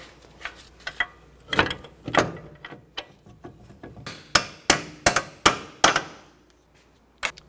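A hammer taps a bolt into a 2011-15 Kia Sorento front strut with a series of sharp metallic knocks, light at first and then several louder, evenly spaced blows close by, ending with one final tap.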